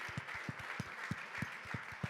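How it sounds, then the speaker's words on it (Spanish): Faint, distant clapping from a church congregation at a Sunday service, with fairly regular claps over a soft background hiss. "Démosle un aplauso al Señor, bien fuerte, bien fuerte."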